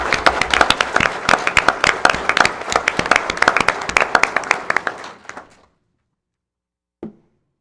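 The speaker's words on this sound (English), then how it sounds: "Please join me in one final round of applause" A crowd at a school board meeting gives a round of applause, dense clapping that fades out after about five seconds, followed by one faint thump.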